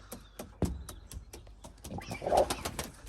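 A male pigeon flutters and shuffles nearby with a soft cooing burst midway, amid scattered taps and rustling.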